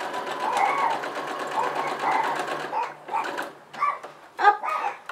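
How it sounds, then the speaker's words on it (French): Sewing machine stitching the fabric of a table napkin holder, a steady buzzing run of stitches that breaks into short separate bursts as a few stitches and a backstitch are sewn, with a voice talking over it. "Et je couds par-dessus 2-3 points, hop, et je fais un petit point d'arrêt."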